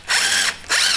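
Short power drill bursts as a bit spot-marks a wooden tenon while cutting timber framing for a garden shed, two quick whirring pulses close by with a pause between them.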